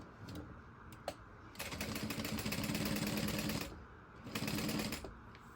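A sewing machine back-stitches the seam of a circle handbag in short bursts of rapid mechanical chatter, with two runs separated by a pause and a faint click before them.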